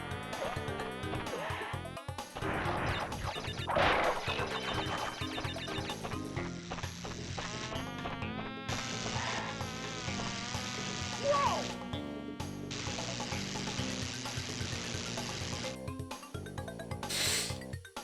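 Swarming bees buzz steadily in the Crash Bandicoot 2 video game, layered under busy game music and effects that run continuously from start to finish.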